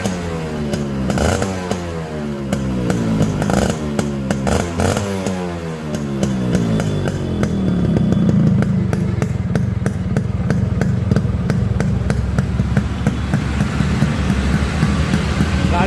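A Yamaha RX 100 motorcycle revving hard close by, its two-stroke engine rising and falling in pitch through repeated throttle blips before settling into a loud, steady high-speed drone.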